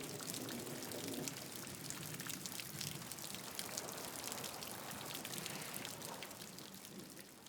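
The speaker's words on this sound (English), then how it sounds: "The rain's not stopping and there is wildlife everywhere" Rain falling outside a wildlife hide, a constant close hiss of drops pattering on surfaces, steady and fairly even throughout with no voices.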